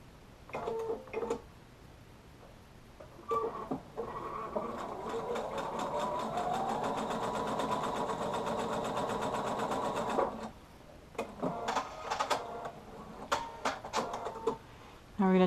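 A sewing machine stitches small quilt-block fabric pieces together in a steady, close run of rapid needle clatter that starts and stops in short bursts, with a longer continuous stretch in the middle.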